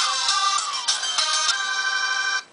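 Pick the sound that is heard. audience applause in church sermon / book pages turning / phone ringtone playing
phone ringtone playing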